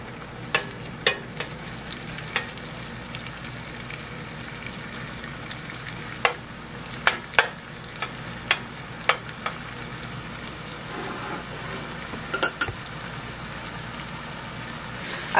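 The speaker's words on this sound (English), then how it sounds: "You can see the onions is cooking already." Onions frying in a pan for cauliflower fried rice give a steady crackling sizzle throughout, with scattered sharp pops and occasional utensil clicks, close and without voices.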